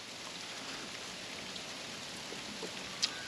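Icy rain falls in a steady, soft hiss of fine droplets, quiet and continuous, with one slightly sharper tap near the end.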